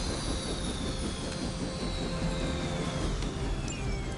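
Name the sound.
helicopter being grounded in Marvel Midnight Suns video game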